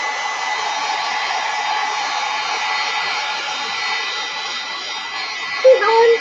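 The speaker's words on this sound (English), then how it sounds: "So heat gun." A heat gun blows steadily to dry wet paint on a fairy painting, a loud continuous airy whoosh with a brief shift in tone near the end.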